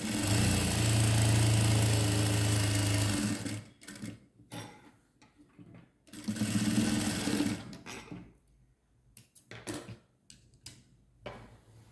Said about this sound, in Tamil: இப்போது இதில் நாடாவையும் நம்ம வச்சு தைச்சாச்சு